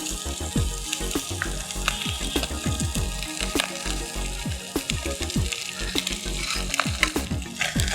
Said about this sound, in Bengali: আলতো হাতে নেড়ে দেবো।